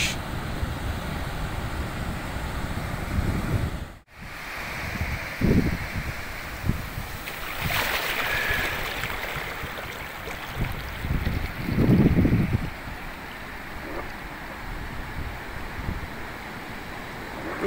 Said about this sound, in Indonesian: Begini perjuangan untuk menurunkan perahu di gelombang besar.